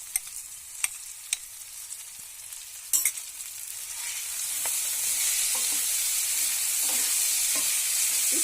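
Soaked and dried daliya (broken wheat) roasts in a pan over low flame, starting with a few sharp stirring clicks before a steady sizzling hiss builds and holds.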